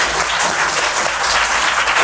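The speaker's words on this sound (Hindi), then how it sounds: "एक जोरदार ताली होनी चाहिए।" Loud, dense applause from the studio audience of a quiz game show featuring government school children, a steady wash of clapping with no talk.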